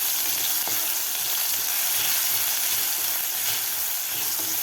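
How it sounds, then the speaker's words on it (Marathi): Crushed garlic cloves and cumin seeds frying in hot oil, a steady close hiss and crackle with faint stirring, no talk. "लसूण थोडासा आपल्याला फ्राय करून घ्यायचा आहे, थोडासा असा गुलाबी कलर होईपर्यंत."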